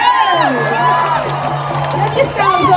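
A large outdoor crowd at a Freedom Day rally, loud and continuous, with cheering and whoops under a speaker's amplified voice.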